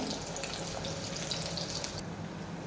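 Onions and chillies frying in a pan, a steady soft hiss and sizzle with faint crackles, fairly quiet and close, tapering slightly toward the end.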